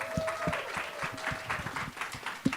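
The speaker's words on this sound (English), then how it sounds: "Let's give them a round of applause." An audience at a panel event on global LGBTQI+ persecution gives a round of applause, scattered claps forming a moderate patter over a couple of seconds, with a faint voice and a tone underneath.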